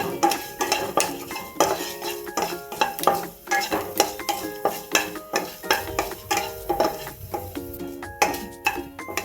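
Coriander seeds and urad dal roasting in a spoonful of oil, stirred briskly with a metal spoon against the pan, giving repeated sharp scraping clinks in a fairly regular rhythm over a soft sizzle.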